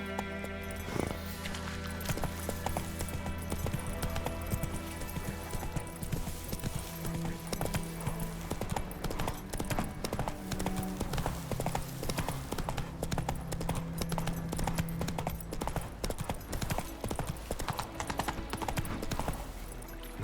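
Roach the horse gallops in The Witcher 3, hooves clip-clopping in a fast, steady rhythm over the game's continuous music, heard at a moderate distance and fairly faint.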